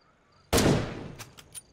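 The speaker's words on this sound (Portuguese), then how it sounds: "Deixa eu ver se eu consigo dar um tiro nele aqui." A single loud unsuppressed gunshot rings out in the zombie survival game State of Decay 2, a sharp crack followed by a decaying tail and a few faint echoing taps afterward.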